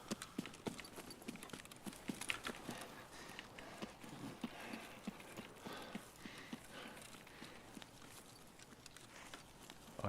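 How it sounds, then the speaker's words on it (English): Footsteps from the video game Escape from Tarkov, a steady run of fairly faint, regular thuds at moderate distance against a busy ambient background, with no talk. "I hear footsteps in there."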